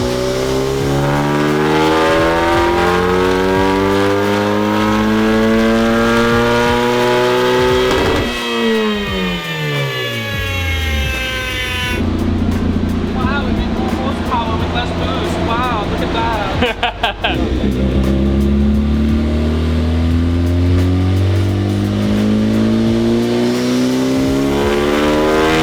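A turbocharged high-compression 1.6-liter Mazda Miata revving on a dyno, loud and close, engine pitch sweeping up repeatedly through long pulls, then dropping and climbing again, with brief crackles and some voices in between.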